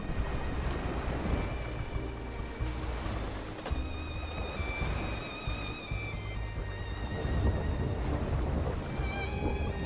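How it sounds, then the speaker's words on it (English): Heavy surf and choppy water batter a speedboat during a rainstorm in a game scene, a steady, dense wash of waves and wind with a musical score playing underneath throughout. "I sit up as violent waves rock the speedboat."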